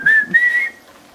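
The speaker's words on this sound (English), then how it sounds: "If you don't sing while you cook, you're lame. Okay. Or whistle at least." A person whistles a brief, clear two-part tune while cooking beef enchiladas in a kitchen, close and alone.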